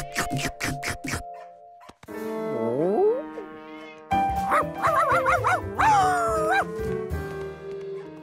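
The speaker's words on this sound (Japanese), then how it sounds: "ねえ、今のうちの犬？" Cartoon dog barks in a quick rhythmic burst of sharp yaps at the start, followed by a cartoon cat's high meows and whining calls with music underneath.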